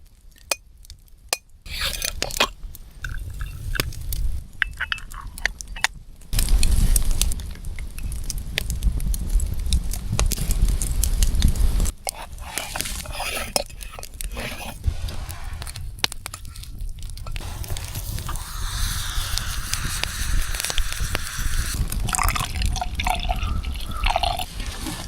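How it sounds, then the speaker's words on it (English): A small espresso maker brews outdoors on a frozen winter night at about minus 35. It gives off irregular bubbling, gurgling and sputtering with scattered clinks and drips, steady and close, with no voices. "It's my little espresso maker."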